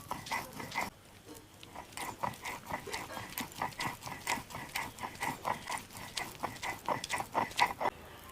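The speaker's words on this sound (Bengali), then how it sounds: "কত সুন্দর বাটা হয়ে যাচ্ছে দেখুন।" Ridge gourd peel being ground by hand on a stone slab with a grinding stone, a steady rhythmic scraping and knocking that repeats about twice a second, close and fairly quiet.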